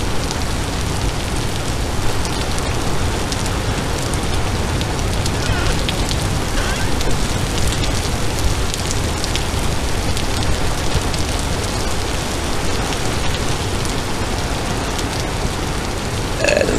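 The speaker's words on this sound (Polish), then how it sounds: "jak mi zimno w tym deszczu." Steady, dense rain in the video game Vintage Story patters continuously on surfaces, an even hiss with no breaks and no voices.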